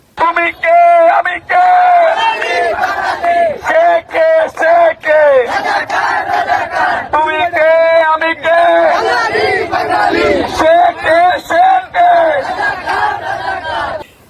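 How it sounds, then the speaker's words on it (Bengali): A loud crowd chants a political Bengali nationalist slogan led by a BNP youth leader, one voice calling and many voices answering in a steady, rhythmic call-and-response at close range. "বিএনপির এক যুব নেতা স্লোগান দিচ্ছে তুমি কে আমি কে বাঙালি বাঙালি"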